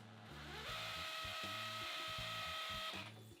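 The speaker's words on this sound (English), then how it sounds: "I use the masonry bit and the hammer drill to extend the pilot hole into the concrete" A hammer drill with a masonry bit bores into concrete, extending a pilot hole behind a cabinet; a loud, continuous rattling whine with pulsing hammer blows that holds steady for about three seconds before stopping.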